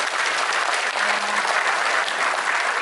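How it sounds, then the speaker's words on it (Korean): A forum audience claps for panelists, a dense, loud, sustained burst of applause from a sizable crowd filling the room with steady texture. "오늘 정말 좋은 의견 주신 토론자분들께 우리 한번 크게 박수 한번 쳐드릴게요."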